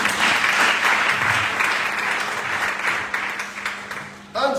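A church congregation applauds together in a sustained, dense burst of clapping that fills the space, tapering slightly before stopping abruptly near the end.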